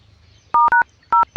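DTMF telephone keypad tones dialing a call, several short two-tone beeps in quick pairs with brief gaps, loud and clear over faint low background hum.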